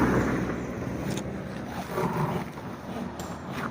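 Passing vehicles on a roadside next to a work site give a steady, fairly loud traffic rumble with a few swells as cars go by, with no talk.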